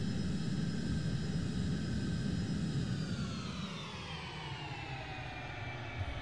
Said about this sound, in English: There's the spoilers, there's the reversers.